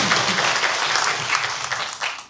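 A crowd claps steadily for a couple of seconds, a dense, even patter of applause that tapers slightly at the end.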